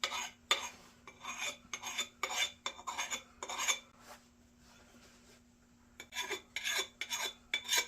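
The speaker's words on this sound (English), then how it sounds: "And I'm draw filing right now." Hand file draw filing the bevel of an axe blade, a series of close rasping scrapes in an uneven rhythm with a quieter pause in the middle before the strokes resume.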